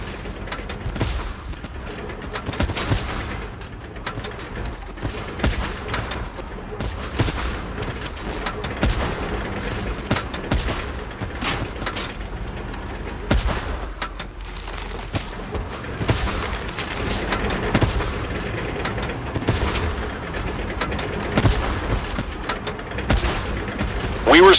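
Heavy tank battle gunfire and artillery blasts from the Tank Force video game, with dense repeated booms and shots running continuously at loud, steady volume over a busy rumbling background.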